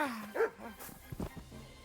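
A dog in Kingdom Come: Deliverance 2 gives a couple of short, faint barks and yips amid quiet game ambience, brief and somewhat distant.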